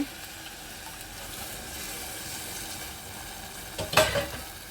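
Water poured into a hot pot of biryani base sets off a steady, close sizzle and stirring, then a louder hissing surge near the end as the liquid hits the hot pan.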